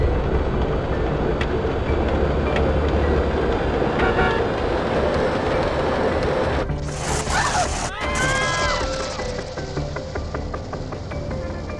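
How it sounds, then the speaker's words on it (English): Tram in GTA San Andreas running under the Clever Trams mod, a steady, loud rolling rumble that continues throughout, with brief tonal squeals or toots near the end. "Then there's the Clever Trams mod, which finally makes trams behave properly."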